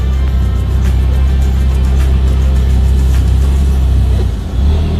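A car creeps slowly forward with a low, steady engine rumble and faint road noise from inside the cabin, holding an even drone throughout with only a brief dip near the end.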